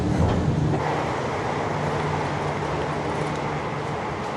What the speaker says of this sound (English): it's just the subway system